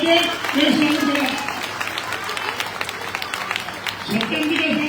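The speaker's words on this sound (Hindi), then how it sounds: "तालियों की कमी नहीं" An audience at a welcome reception on the Navoday Yatra in Rajasthan claps in a continuous stream of applause, with a voice speaking over it at the start and end.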